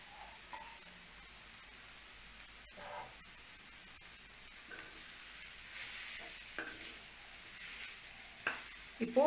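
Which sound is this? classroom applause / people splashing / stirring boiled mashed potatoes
stirring boiled mashed potatoes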